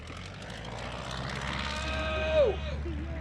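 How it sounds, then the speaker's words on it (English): A Piper Cub's propeller engine drones steadily during a comedy act at an airshow, rising and then pulling back in pitch as the plane passes, loud and fairly close. "Land the airplane!"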